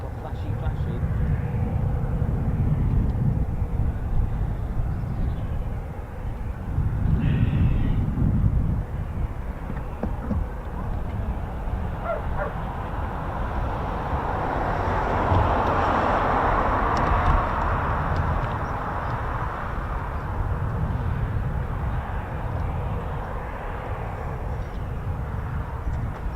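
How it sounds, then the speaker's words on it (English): A CV-22 Osprey tiltrotor flies past, a broad, distant rumbling drone that swells and fades steadily with wind buffeting the microphone, while someone talks over it. "That's CV-22 Osprey, look at it."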